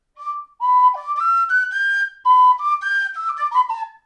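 A clear, close whistled melody in short phrases, with one note bending downward in a quick slide between steady pitches.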